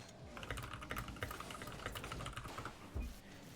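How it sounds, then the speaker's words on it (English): Steady, rapid typing on a computer keyboard, a close, continuous patter of keystrokes lasting several seconds with small pauses and a sharper thump near the end, no voices. "Oh my god, I can't type."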